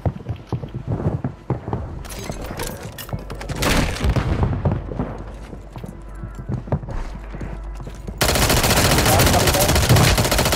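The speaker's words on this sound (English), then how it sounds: "I'm just shotgunning down here." Video-game shotgun blasts and other gunfire ring out in sharp, loud bursts, irregular and close, over a busy mix of game effects, ending in a harsh sustained roar of noise.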